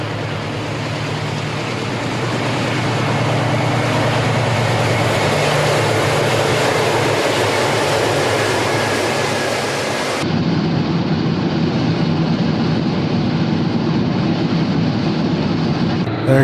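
An Erie Lackawanna freight train passing at Hale Eddy, heard as a continuous loud, broadband rumble and roar of wheels and cars that holds steady throughout, with a slight shift in tone partway through and no talking.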